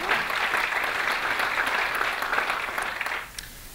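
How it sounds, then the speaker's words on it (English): Audience applause at an elevator pitch competition event, a full, steady round of clapping that holds strongly and then tapers off near the end. "And a round of applause for those organizations as well."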